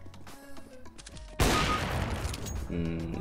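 A sudden loud burst of gunfire in CS:GO cuts in and keeps roaring as a dense sustained blast, with a voice speaking faintly underneath and softer game sounds before it.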